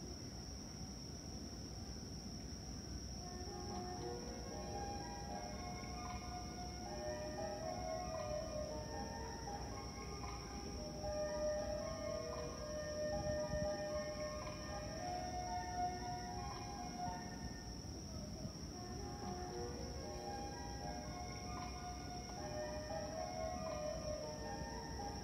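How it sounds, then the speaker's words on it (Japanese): A Geibi and Fukuen Line Kiha diesel railcar on an out-of-service detour run over the Sanyo Line passes through a station, giving a long, steady engine drone with shifting tones and a constant high whine for about 25 seconds. "列車が通過します。"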